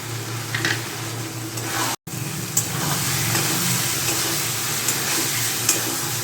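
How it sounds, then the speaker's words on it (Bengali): Egg and potato curry with capsicum and spices being sautéed and stirred in a pan, a steady sizzle with scraping stir sounds throughout and a brief dropout near the start. "আর একটু কষিয়ে নিচ্ছি।"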